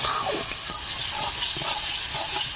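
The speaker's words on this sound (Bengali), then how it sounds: "মশলা ভালো করে কষে নিয়েছি।" Ground spice paste fries in a pan for a lote fish curry, giving a loud, close, continuous sizzle with stirring scrapes throughout and no voices.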